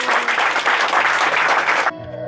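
A church congregation at a prophetic visit in Cameroon bursts into loud, sustained applause with crowd noise for a couple of seconds, then it cuts off abruptly into quiet.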